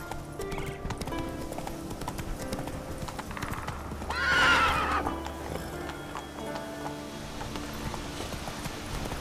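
In The Witcher 3: Wild Hunt, the horse Roach gallops with rapid, continuous hoofbeats, and a loud whinny rises over the rhythm near the middle.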